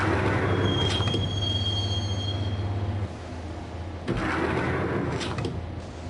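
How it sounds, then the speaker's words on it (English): Subway train riding through a tunnel in the video game Max Payne, a continuous rumbling roar with high wheel squeals and rattling clunks, loud and steady with no voices. "the train doors had already shut behind me, and I was in for the ride"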